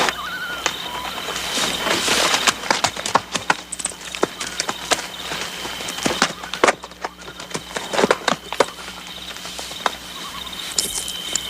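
Hooves clip-clop in an uneven stream of sharp knocks against steady background noise, with faint insect chirping underneath.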